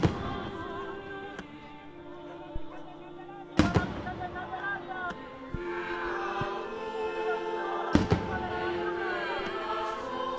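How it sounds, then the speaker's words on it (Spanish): Fireworks burst over the Plaza del Cristo in La Laguna during a religious festival honouring the Virgin and Christ: sharp distant bangs at intervals, three especially loud, with crackling between and a murmur of voices underneath. "Se oyen los primeros fuegos en honor a la Virgen,"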